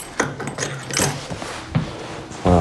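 Keys for a 2022 Jayco Pinnacle 36SSWS RV jangle and clink in close, irregular bursts, a few metallic rattles with faint handling noise and a short hum at the end.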